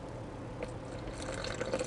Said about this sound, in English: into that well, I'm going to pour some warm water